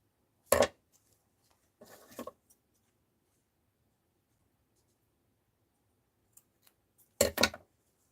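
Scissors snip through fabric to cut a scarf for a handmade Scrooge doll, three short close cutting bursts separated by quiet pauses.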